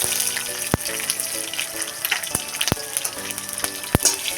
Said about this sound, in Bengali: আর এখানে দিয়ে দিচ্ছি ক্যারি পাতা আর দিয়ে দেবো কাঁচা লঙ্কা